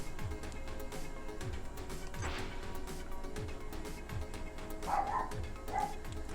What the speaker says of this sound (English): Bark, bark, bark, bark.